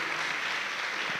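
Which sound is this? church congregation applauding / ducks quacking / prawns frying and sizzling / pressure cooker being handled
church congregation applauding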